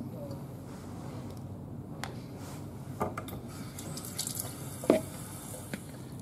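Water running and dripping into a bowl as balls are rinsed in a kitchen, soft splashes and drips over a low background, with scattered small clinks and a voice briefly present.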